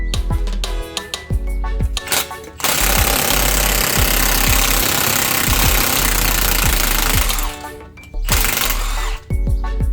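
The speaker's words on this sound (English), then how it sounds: "I can now use the impact gun to remove the nut." A pneumatic impact gun hammers loose a strut nut on a 2014–2019 Toyota Highlander, loud and close, with short rattling bursts at first, then a long continuous hammering run, a brief break, and a final burst.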